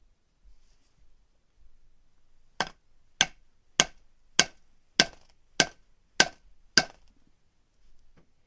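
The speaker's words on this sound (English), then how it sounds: "I'm going to take a mallet and ram our dowel in" A mallet drives a wooden dowel into a clay rocket nozzle with eight sharp, evenly spaced knocks, close and crisp against a quiet background.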